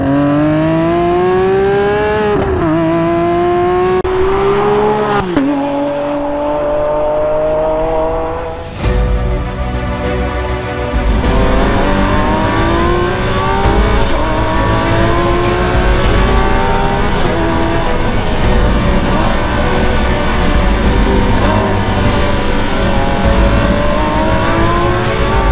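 A Lamborghini Aventador Ultimae's naturally aspirated V12 revs loudly through several rising throttle blips, then settles into a sustained, rich engine roar with shifting pitch as the car drives on.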